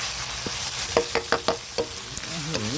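Food stir-fried in a pan: a steady sizzle under a quick run of sharp spatula scrapes and clacks, close and fairly loud, with no talking.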